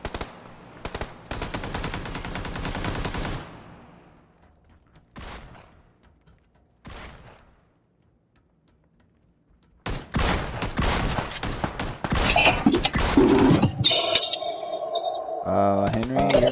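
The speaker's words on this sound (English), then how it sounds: "Where am I being shot from?" Rapid automatic gunfire from PUBG, loud close bursts for about three seconds, then scattered single shots, a pause, and a dense volley of shots and impacts near the end, with voices talking in between.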